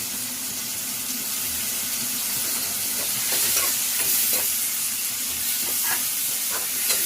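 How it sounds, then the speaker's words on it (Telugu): Tomato pieces and coriander leaves stirred in a frying pan for a Telugu-style country chicken curry, with a steady close sizzle and soft spatula scrapes repeating through the stretch, no talking. "ఇప్పుడు ఇందులో టమాటా ముక్కలు కూడా వేసేసుకుందామండి. అలాగే కొత్తిమీర కూడా కొంచెం వేసేసుకుందాము."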